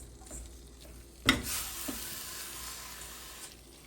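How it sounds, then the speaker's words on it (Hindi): Minced meat fries in olive oil while it is stirred, with a sharp burst of sizzling as a spoon scrapes the pan, then a steady close crackle that slowly fades. "इसके अंदर ये 15 ml ऑलिव ऑयल वो डाल दें, और इसके साथ ही इसके अंदर कीमा डाल दें और इसको मिक्स करें अच्छे से"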